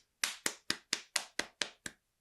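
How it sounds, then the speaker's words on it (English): Eight sharp, evenly spaced hand claps ring out alone at a brisk steady pace, close and fairly quiet, with short decays between them. "I'm clapping."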